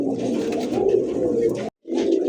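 An old-breed pigeon coos in a low, continuous rolling murmur, close and fairly loud, with a brief pause before the cooing resumes.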